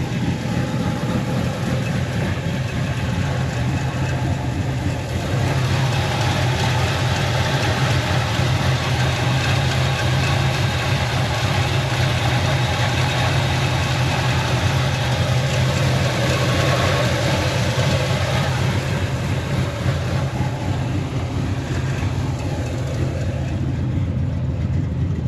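A 1968 Chevrolet Camaro engine idling after a cold start, a steady low rumble holding evenly and loudly throughout with no speech.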